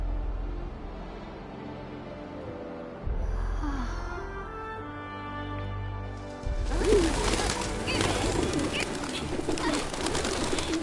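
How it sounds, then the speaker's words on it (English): Pigeons coo repeatedly in the Final Fantasy VII Remake game, set on arrival in Midgar. Soft, steady cooing runs throughout over a low game soundscape, and from about the midpoint it grows louder and busier with fluttering ambient noise. "Pigeons."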